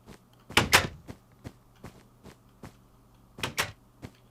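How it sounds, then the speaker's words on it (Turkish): A door closes in the Minecraft video game, heard as two pairs of sharp wooden clunks amid lighter tapping clicks, close and dry with no speech. "kapıyı kapatacak."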